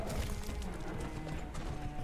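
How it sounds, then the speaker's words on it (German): A horse gallops along a coastline in a video game, its hooves giving a quick, continuous clip-clop rhythm at moderate loudness with no voices over it. "dann kann ich einmal die ganze Küste eigentlich lang reiten und gucken"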